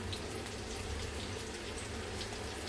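Tap water running while leafy red amaranth greens are washed in a kitchen: a steady, fairly faint rushing splash with no breaks and no voices.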